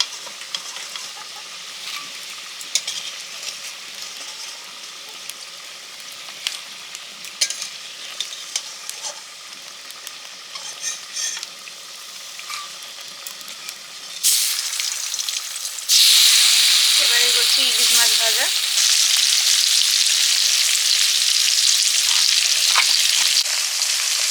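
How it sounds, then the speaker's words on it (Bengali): Hilsa fish sizzle in hot oil nearby, with soft crackling and occasional utensil clicks, then the frying suddenly swells into a loud, dense hiss that holds steady to the end. "ছোলা কুচু শাবলা আর ইলিশ মাছগুলো ভাজা হবে"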